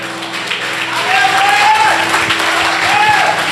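A church congregation breaks into applause, a broad wash of clapping that swells after the first second and holds steady, with a voice and sustained tones running over it.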